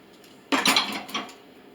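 Dishes and silverware clatter together close by after washing with homemade dishwasher pods, a short burst of bright clinks and rattles that fades over about a second.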